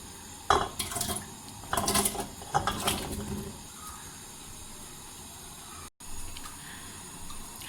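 Turnips dropped into a metal pressure cooker with water, giving a few close clattering, splashing bumps in the first seconds before the kitchen goes quiet apart from low background hum.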